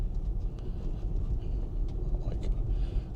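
A car rolls along a bumpy old asphalt road broken up by tree roots, giving a steady close road rumble and cabin thrum with light knocks from the uneven surface.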